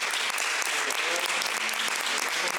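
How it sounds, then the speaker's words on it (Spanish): A seated audience at a book discussion claps enthusiastically in a continuous, even burst of applause, fairly dense and sustained for the whole stretch. "Eso merece un aplauso enorme."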